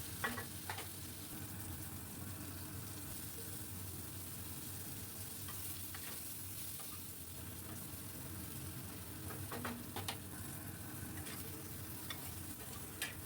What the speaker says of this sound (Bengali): ওই একই তেলেই আমি কেটে রাখা পটলটাও ভেজে নেব